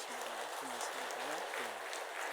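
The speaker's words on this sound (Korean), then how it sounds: "자 우리 박수로 환영하도록 하겠습니다" A church congregation claps in welcome during a worship service, a steady wash of many hands close by, with a voice talking over it throughout.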